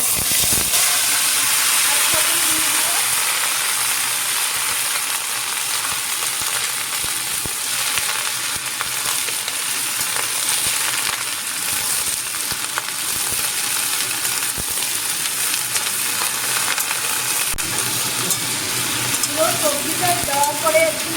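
Broccoli and mixed vegetables frying in hot oil with dried red chillies give a steady, loud sizzle and hiss that runs throughout, with occasional scrapes and stirs.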